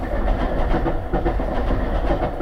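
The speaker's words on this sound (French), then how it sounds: "Merci les trains." A train rumbles past close by with steady, loud clattering and low rolling noise throughout, no talk over it.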